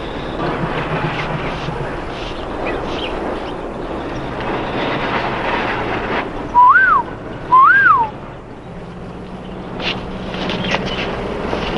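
Two short rising-and-falling whistles, a signal call, sound clearly over a rumbling background of a moving train, with a brief pause between them.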